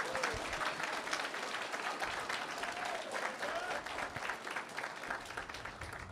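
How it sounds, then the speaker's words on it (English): Audience applause at a live debate, steady broadband clapping throughout, with faint voices underneath. "Round of applause, huh?"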